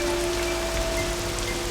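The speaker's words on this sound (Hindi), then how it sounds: "बारिश हो रही है, अंदर आओ तुम" Steady rain falls without a break, a dense, even hiss of drops at constant loudness. There is no speech.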